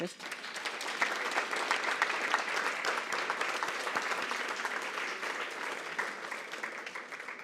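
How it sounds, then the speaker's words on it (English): Room-filling applause for three environmental award finalists at the 2022 Pritzker Emerging Environmental Genius Award ceremony: dense, steady clapping from a seated audience that holds evenly for several seconds and tapers slightly at the end. "I'm going to pause and ask you to give them a round of applause"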